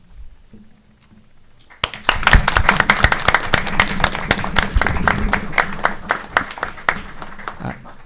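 An audience at a Board of Education meeting applauds as the 2025-2026 Principal of the Year stands, steady dense clapping that bursts in after a quiet start and carries on for several seconds.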